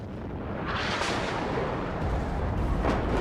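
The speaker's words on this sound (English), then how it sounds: "You're gonna see the massive amount of artillery coming in here." Artillery barrage in the Warno real-time strategy game, heard as a continuous dense rumble of overlapping distant blasts and impacts, with louder bursts swelling near the middle and end.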